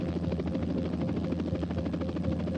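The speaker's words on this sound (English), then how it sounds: "An Austin police chopper hovered over the apartment complex where they resided during the night." A police helicopter hovers overhead at night above an apartment complex in Austin, its rotor thumping in a steady, dense rhythm that stays loud and constant.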